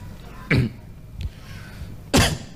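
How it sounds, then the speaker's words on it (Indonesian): A person in an audience at a religious lecture coughs: two sharp, loud, close coughs about a second and a half apart, with a softer throat sound between them. "Nah, itu batuk."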